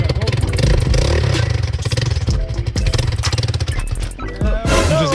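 A 2020 Bashan Storm 250 motorcycle engine revs and clatters close by in uneven bursts, dipping briefly near the end, with voices talking over it.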